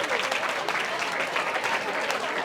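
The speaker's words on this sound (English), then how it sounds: "Give him a round of applause." Audience applause during a talk, a brief, dense burst of many people clapping together, steady and moderately loud, with faint voices mixed in.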